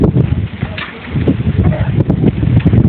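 Strong wind on an island overlook buffets the microphone in a steady, rumbling roar with gusty surges throughout, loud and close, with no clear voices.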